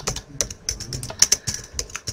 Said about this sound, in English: I always type in caps.